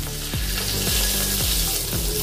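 Oil and butter sizzling in a tawa for paneer tawa pulao, a close, continuous crackling hiss with a few soft utensil knocks.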